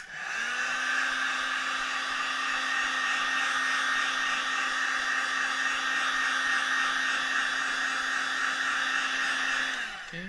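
A hot-air tool, heat gun or hair dryer, warms the battery adhesive inside an iPhone 6S. It gives one steady whirring blow that starts, holds evenly for about nine seconds, then cuts off, close and alone.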